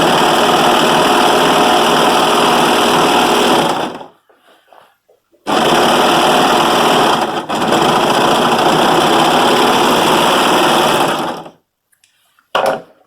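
A sewing machine stitches the body of a DIY sweater in two long, loud, steady whirring runs, with a brief pause between them and a short final burst, close to the machine.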